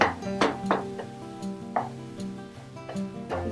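Chicken mince fries in a little oil for samosa filling, giving a soft sizzle punctuated by repeated spoon scrapes and clanks against the pan, close up with a steady tonal hum behind it.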